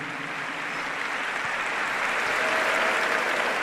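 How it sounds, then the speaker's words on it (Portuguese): A congregation at a Catholic priest's talk claps steadily, a thick uniform wash of applause that holds level and swells slightly toward the end, filling the room with no voices over it. "Palmas para Jesus."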